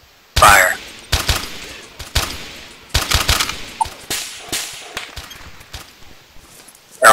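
A volley of gunfire from several soldiers in the ARMA 2 military game, opening with one loud burst, then a spread of sharp individual shots and short bursts over about seven seconds, ending with another loud crack.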